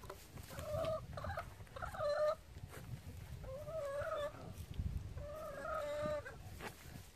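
A chicken clucks repeatedly in short bursts, close by, with quiet pauses between the runs of clucks.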